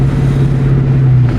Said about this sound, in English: Show you some more of the downshifting.